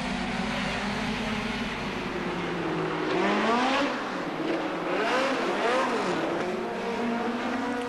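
Hot rod racing cars at Wimbledon in 1978, engines roaring continuously and rising and falling in pitch as several cars pass and accelerate, loud and steady throughout with no talk.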